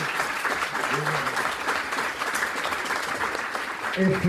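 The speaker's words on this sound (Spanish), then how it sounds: "Con este aplauso vamos a despedir a Paloma" Applause at a school panel discussion, sustained crowd clapping at a steady level throughout, with a voice speaking faintly over it near the end.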